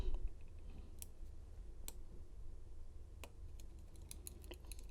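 Faint, sparse clicks from a Lishi HU101 pick working a Ford 10-cut lock, a few sharp ticks scattered over steady low background noise, with no talk.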